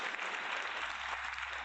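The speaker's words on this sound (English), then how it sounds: "Where's my clap? Where's my applause? There it is." A brief burst of clapping from a small group, steady and fairly quiet, lasting under two seconds.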